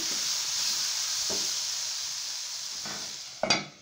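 Chicken for shawarma sizzling in a pan, a steady close hiss of frying with a few soft stirring scrapes and a sharp clink near the end.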